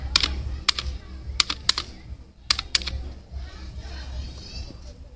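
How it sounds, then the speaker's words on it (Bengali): Keys clack on a computer keyboard, loud sharp presses coming in small irregular bursts with brief pauses between them, set against a quiet room. "আবার এন্টার দিব।"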